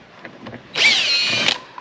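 Cordless power drill backing a screw out of the front heat pump shroud on an RV, a close, loud whirring burst lasting under a second after a few faint handling knocks.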